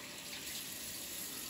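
Steady broadband rush of tap water running into a sink during hand washing, loud and continuous with no voices.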